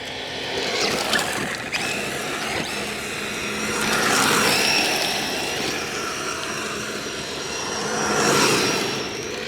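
Large MJX 7304 RC rally car driving and sliding: whining electric motor swells and fades as the car passes close, with rough scrabbling from its tires, two louder surges and no talk.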